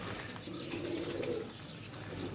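A pigeon coos softly against a light background hiss, a low throaty murmur that swells around the middle and then fades, heard alone without talk.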